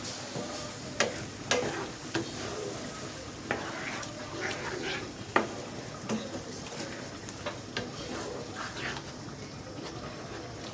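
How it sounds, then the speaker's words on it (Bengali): Prawn malai curry masala sizzles and fries in a pan after water is added, with a steady hiss and repeated clinks and scrapes of a spoon stirring close by. "পানিটা দিয়ে ভালো করে কষিয়ে নিই।"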